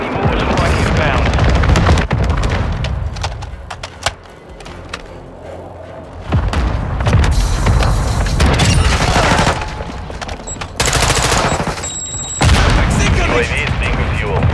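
Combat in Call of Duty Modern Warfare 2 during a mortar strike: heavy, continuous booms and gunfire rumble loudly throughout, with sudden cuts and bursts of explosions, under game voice announcements.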